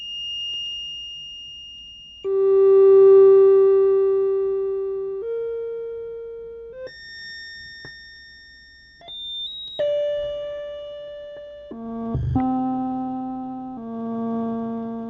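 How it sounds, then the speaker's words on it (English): Homemade modular synthesizer built from a messy Chipz oscillator, giving a run of steady sine-like tones that hold and jump between pitches. Each note gets rising and falling envelopes, and faint stray buzzing and noise sit underneath, with no talking. "all the weird noises you hear in the background are the fact that the Chipz is a little bit of a messy"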